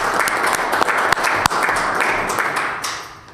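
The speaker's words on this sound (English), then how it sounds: "I think we could give them a clap" Applause from those gathered at a shire council meeting, a moderately dense round of clapping with a few sharp louder claps standing out, fading gradually near the end.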